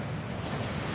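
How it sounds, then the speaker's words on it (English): Gringotts waterfall in the game Hogwarts Legacy: a brief, steady rushing roar of falling water, full and continuous with no other sounds. "That waterfall washes away all enchantments."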